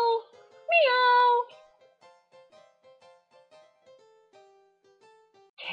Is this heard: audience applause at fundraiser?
no